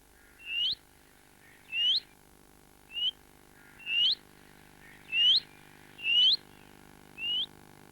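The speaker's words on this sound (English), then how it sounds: "Here's the call of a willow warbler." A willow warbler gives its call, a clear upslurred whistled note repeated seven times at roughly one-second intervals, carrying cleanly over quiet surroundings.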